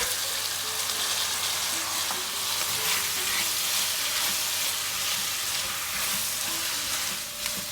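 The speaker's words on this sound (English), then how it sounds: "So this has been frying for 5 minutes" Curry ingredients with tomato and garlic ginger paste sizzle and crackle steadily in a pan, continuous and fairly loud throughout, with occasional stirring scrapes.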